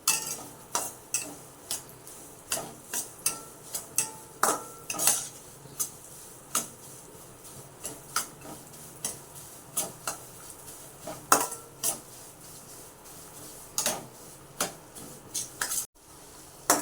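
A spoon stirs raisins, cashews and almonds roasting in ghee in a pan, giving sharp intermittent metallic clinks and scrapes at an uneven pace over a faint sizzle, close by and with no talk.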